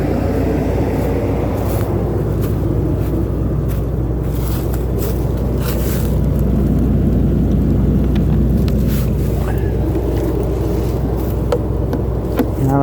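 The engine of a Fleetwood Bounder Class A motorhome, run for the first time in two years, holds a loud, steady, rough low rumble throughout with no pauses.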